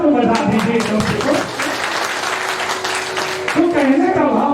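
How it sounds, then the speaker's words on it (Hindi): A satsang congregation claps along with a devotional speaker, the applause rising to a dense rush in the middle, with the speaker's voice over the clapping at the start and end. "एक बार तालियां तो बजा दीजिए"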